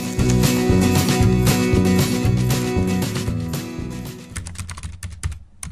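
Rapid typing on a computer keyboard over a busy musical backing, steady clicking that thins out toward the end.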